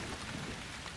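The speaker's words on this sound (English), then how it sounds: "it started to rain. It was quite heavy." Heavy rain pours steadily outside a remote country farmhouse, a dense, even hiss of rainfall with no voices.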